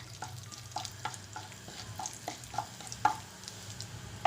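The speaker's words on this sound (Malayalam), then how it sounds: "ഇനി നമുക്കതിലേക്ക് നമ്മൾ എടുത്തത് 1 ടീസ്പൂൺ ഉഴുന്നിട്ട് കൊടുക്കാം. ഒന്ന് ഇളക്കി കൊടുക്കാം." A teaspoon of urad dal fries in hot oil, with a soft steady sizzle broken by sharp metallic clicks and scrapes of a spoon stirring the pan at irregular intervals.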